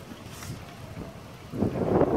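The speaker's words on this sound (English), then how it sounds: "Way too windy outside." Strong wind buffets the microphone with a low, rumbling roar that swells into a louder gust toward the end.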